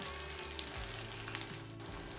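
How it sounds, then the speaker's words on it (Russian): Potato gnocchi frying in vegetable oil in a pan, a soft continuous close sizzle with a faint steady hum beneath, quiet and even throughout. "В сковородку добавляем немного растительного масла и обжариваем ньокки в течение 1-2 минут с каждой стороны"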